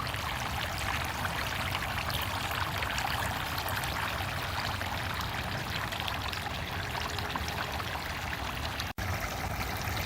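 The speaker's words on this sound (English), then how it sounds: "Here's another tiered fountain we have that has the spouts also for the water to trickle down" Water trickles down a tiered garden fountain with spouts, a steady, even splashing flow that holds at a constant level throughout with no voices.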